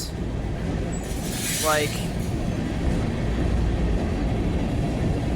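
A BNSF freight manifest train rolls past near La Crosse, Wisconsin, its steady rumble of wheels and cars heard from close by while a person briefly speaks.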